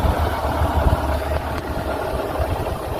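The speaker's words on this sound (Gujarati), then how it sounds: "આપણું આ હોન્ડા શાઇન બાઇક લઈ અને સોમસામ નાળિયામાંથી આવી ગયા છે આપણા ખેતરે" Honda Shine motorcycle on a farm path, a steady low engine putter with a slight irregular throb, close and continuous without talk.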